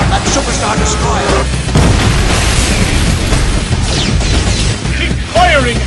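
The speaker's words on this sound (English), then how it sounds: "Concentrate all fire on that superstar destroyer!" Blaster fire and heavy explosions from a Star Wars space battle game, with a Super Star Destroyer under attack, booming loudly and continuously throughout with layered bursts and crashes.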